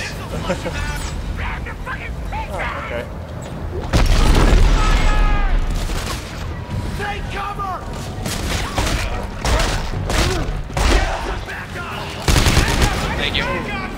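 Heavy gunfire in the sci-fi shooter Dead Space 3, loud booming shots and rattling bursts over dense game music and effects, with a player talking over the noise throughout.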